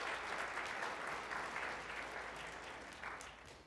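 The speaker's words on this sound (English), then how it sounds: "We give her a round of applause." An audience at a school board meeting claps together, a dense patter of hands that holds steady and then slowly tapers off.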